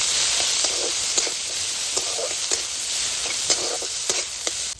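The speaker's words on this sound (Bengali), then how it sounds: "তেল গরম হয়ে গেছে, দিয়ে দিচ্ছি পেঁয়াজ কুচি, রসুন কুচি, আস্তা কাঁচা লঙ্কা, একটু আমি ভেজে নেব।" Chopped onion, garlic and green chilies frying in hot oil, a steady bright sizzle with regular soft stirring scrapes, close and alone without voices.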